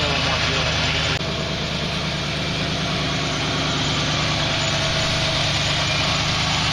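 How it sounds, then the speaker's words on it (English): A station wagon's warmed-up engine, running a little rich and needing timing adjustment, idles with a steady, even rumble that stays close and loud throughout. "Needs a little timing, but other than that, sounds great. Now that it's all warmed up."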